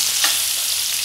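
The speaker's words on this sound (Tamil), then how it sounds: "ஷாலோ ஃப்ரை அப்படின்னா கொஞ்சமாக எண்ணெய் விட்டு வதக்கிறது" Plantain slices shallow fry in a little oil in a pan, giving a steady, close, even sizzle that fills the short stretch alone, with no talking.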